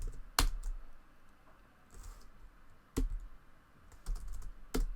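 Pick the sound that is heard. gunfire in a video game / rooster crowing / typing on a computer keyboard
typing on a computer keyboard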